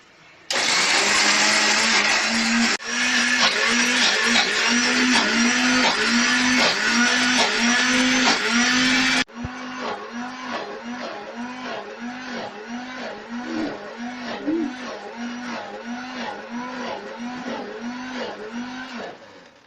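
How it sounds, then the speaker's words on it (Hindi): A blender motor roars loudly in pulsing bursts, then drops to a lower, steadier grinding whir as the ginger garlic paste with oil thickens; no talking. "अब आप इसको ब्लेंड कर लें।"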